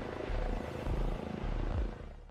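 A helicopter in a video game produces a steady, loud low-pitched rotor drone that runs without a break and fades slightly at the end, with no voices over it.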